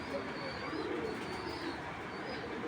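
Pigeons coo softly and continuously, game-flying birds of an old working line kept in a loft among a mixed high-quality collection, with the cooing blending into a steady murmur of birds in the background.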